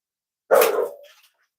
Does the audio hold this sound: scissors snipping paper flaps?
no